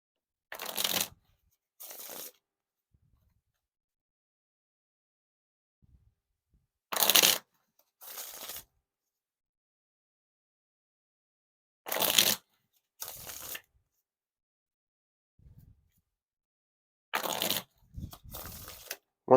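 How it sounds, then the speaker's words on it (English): Thin-stock Ellusionist White Arcane playing cards are bent and riffled by hand, giving several short, crisp papery bursts of flicking and snapping separated by quiet pauses, close up with no talk. "when I bend the cards, they're extra bendy because they must be like a thin stock of card"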